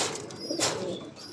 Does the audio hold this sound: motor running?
no